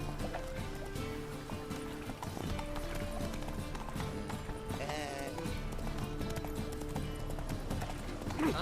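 Hooves of the horse Roach galloping in The Witcher 3, a quick rhythmic clip-clop running steadily under game music and a voice.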